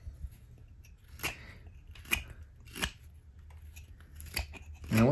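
A knife whittles the base of a carved wooden pumpkin head, giving a series of sharp, close scraping cuts spaced about a second apart over a quiet background, with no talk.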